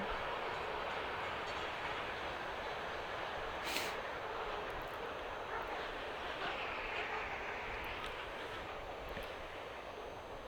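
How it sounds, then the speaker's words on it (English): A steady rumbling roar from a train about 200 yards beyond a ballpark carries on continuously, with a brief sharp click partway through and no talk over it. "We do have a train track just about 200 yards away."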